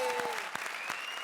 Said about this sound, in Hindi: ताली बजाओ कॉमेडी सर्कस के लिए